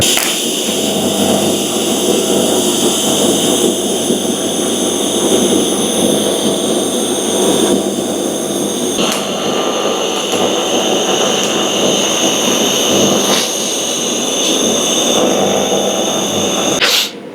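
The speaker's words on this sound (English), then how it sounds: "Alright, so we're just welding out stuff." Loud, continuous buzzing and crackling of welding close by on a Mustang, with steady hiss and occasional sharp snaps, no talking.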